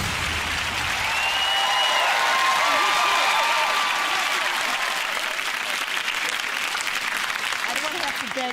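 Loud studio audience applause and cheering fill a British TV game show set, sustained and even throughout, with a few whistles rising above the clapping.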